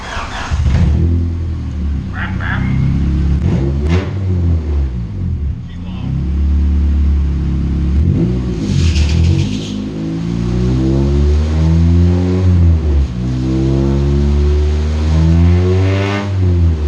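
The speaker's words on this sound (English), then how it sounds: "no muffler on it, so we're gonna fire it up. It's gonna be pretty loud" Honda CRX engine with the muffler removed, revving loudly in repeated rising and falling bursts, a raw, close, rumbling note over a steady idle, with someone talking between the revs.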